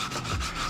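A stiff brush scrubs grease off the drive chain of a Kawasaki Ninja 300 motorcycle, a steady close rasping rub with slight pulsing strokes.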